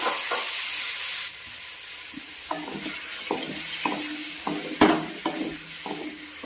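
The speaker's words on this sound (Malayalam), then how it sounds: "ചിക്കൻ മാത്രം നല്ല രീതിയിൽ നമുക്കൊന്ന് വഴറ്റിയെടുക്കാം" Chicken pieces sauté in a hot pan, a continuous close sizzle broken by regular scraping and knocking strokes as a spatula stirs them.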